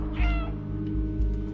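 A cat meows in the game Stray: one drawn-out, close meow near the start, followed by soft movement sounds over a steady low background hum.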